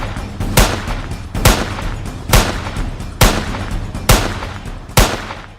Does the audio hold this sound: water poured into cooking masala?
no